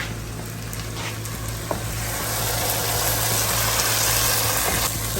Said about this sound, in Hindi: बहुत अच्छी तरह से भून के ताकि टमाटर सब गल जाए